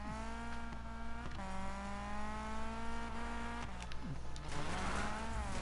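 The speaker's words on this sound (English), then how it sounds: "I could listen to this car all day. I I love the sound of my Lambo." A Lamborghini engine in the Need for Speed 2015 racing game drones steadily with a rich, buzzing tone, its pitch dipping and rising as it revs, heard alone.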